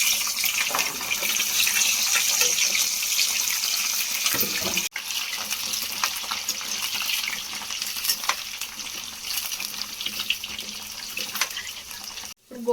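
Chopped amla (Indian gooseberries) go into hot oil and sizzle in a steady, close, loud hiss that lasts the whole stretch with no talking.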